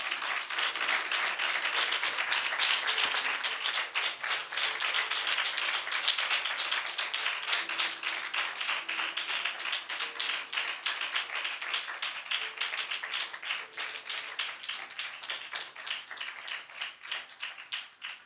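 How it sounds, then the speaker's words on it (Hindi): A church congregation claps for their pastor during a Hindi-language Christian service. Dense, sustained applause from many hands goes on steadily for the whole stretch, fairly loud and close. "आइए जरा जोरदार ताली बजाएंगे अपने पासबान के लिए"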